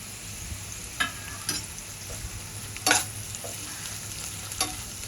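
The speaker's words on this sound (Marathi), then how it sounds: "परतून घेऊया." Ginger and green chillies sautéing in a pan, a soft continuous sizzle broken by a few sharp spatula scrapes and clacks, close and quiet with no voices.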